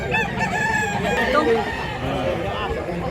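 Several roosters crowing over one another amid clucking from a crowd of fowl at a gamefowl breeder's yard in Mantalungon, Cebu, loud and continuous with overlapping calls.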